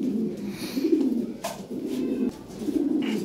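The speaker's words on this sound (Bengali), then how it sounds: "এখানে আছে এক জোড়া ক্রিমবার লাহোরি" A pair of cream bar Lahori pigeons coo up close, soft throaty rolling calls repeating in a steady rhythm, loud and clear with no talking.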